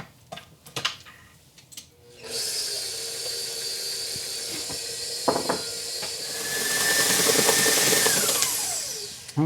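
An electric mixer whips gluten-free vanilla bean cake batter for a wedding cake, a steady whirring motor with a high whine that kicks in after a few quiet seconds and grows louder and brighter toward the end.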